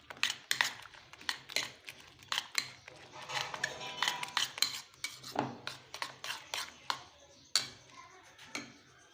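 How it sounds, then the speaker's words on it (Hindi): Egg mixture for an omelette is whisked in a bowl, a quick series of close, light clinks and taps of a utensil against the dish, repeating in uneven bursts without talking. "अब हम इसे अच्छे तरीके से मिक्स कर लेंगे।"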